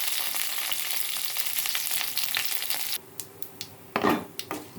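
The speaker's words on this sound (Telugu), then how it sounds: "తాలింపు వేగిపోయిందండి." Tempering spices fry in hot oil with a dense, steady crackling sizzle for about three seconds, then quieter scattered pops and a brief clatter of a utensil against the pan.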